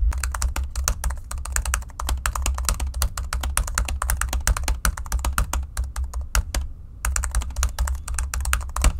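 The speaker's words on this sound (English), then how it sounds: "I'm just going to pretend like I'm typing something just to give you an idea of how it's going to sound." Rapid, continuous clicking of typing on a 2018 MacBook Air butterfly keyboard, close and crisp, with a brief pause before the keystrokes resume.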